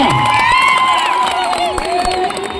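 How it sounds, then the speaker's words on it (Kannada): Crowd at a kabaddi final match, a loud, continuous roar of cheering and shouting with whoops, close and sustained throughout. "ಚಪ್ಪಾಳೆ ಬಂದ ಒಂದ್ಸಲ ಜೋರ ಚಪ್ಪಾಳೆ"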